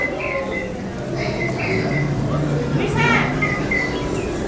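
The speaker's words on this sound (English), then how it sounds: "These are the bird cages." Caged birds at the Ark Encounter in Williamstown, Kentucky chirp in short repeated calls, with low cooing running underneath, over a background murmur of visitor voices indoors.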